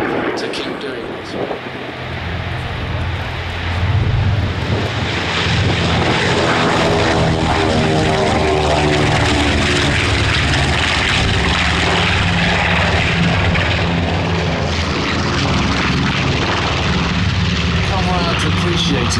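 A B-25 bomber at an airshow, a loud twin piston-engine propeller drone that builds and holds as the plane passes, with a public-address commentator speaking over it.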